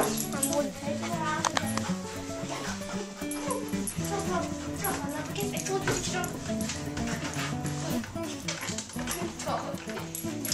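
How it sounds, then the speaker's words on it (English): Dog at a dog show, yipping and whimpering amid a noisy hall, with people talking over it the whole time. "He's a good dog."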